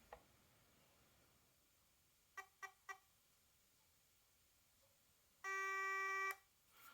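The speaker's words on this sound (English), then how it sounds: "we keep holding the trigger in until we got the long sustained buzz" A Double Eagle M904H airsoft gun in programming mode gives three short quick buzzes, then after a pause one long sustained electronic buzz lasting about a second, close and clear over a quiet background.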